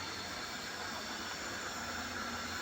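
Steady hissing, bubbling roar of a cauliflower dish boiling in a pot, continuous and close, with no talking.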